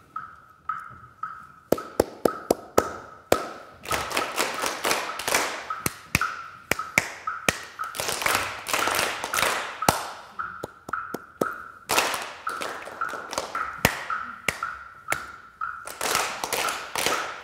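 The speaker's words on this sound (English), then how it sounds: "Give Taylor a big clap for that beautiful playing on the woodblock." A woodblock played by a child in a classroom lesson with a symphony orchestra: crisp, bright wooden taps struck in rhythmic patterns and bursts, some quick runs of strikes, close and loud with no talking.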